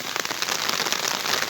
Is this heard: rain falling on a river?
yes